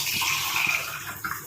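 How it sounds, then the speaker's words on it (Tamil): Water poured into a coconut fibre mixture, a faint steady splashing trickle that runs continuously and softens slightly toward the end, with no talk. "அதனால் இன்னும் ஒரு 1/2 டம்ளர் அளவுக்கு நான் இதில் தண்ணி சேர்த்துக்கிறேன்"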